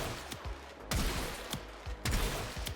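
Bubonico shotgun firing in Warframe, a toxin projectile weapon: three loud separate blasts spaced about a second apart, each a sharp crack followed by a short booming tail, with no talk.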